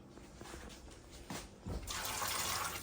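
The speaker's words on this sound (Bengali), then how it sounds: "এখন সব কিছু ধোয়া দিই" A kitchen tap runs while dishes are washed after making pitha. The sound begins with light clinks and splashes, then the water gushes into a steady, loud stream, close up.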